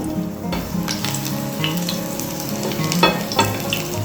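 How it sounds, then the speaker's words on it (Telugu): Crushed garlic fries in a little hot oil for a Telugu mango and greens curry, producing a close, continuous crackling sizzle with a few sharper pops and stirring scrapes, without any talk. "కొద్దిగా ఆయిల్, ఇప్పుడు ఎల్లుల్లిపాయ కొట్టుకున్న ఎల్లుల్లిపాయ వేసుకోవాలి"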